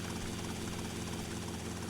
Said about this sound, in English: So I'm going to land the helicopter back here.